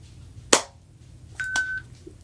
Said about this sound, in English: I keep getting notifications as well.